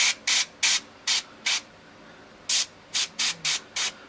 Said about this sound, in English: you can usually do this method with a single action airbrush as well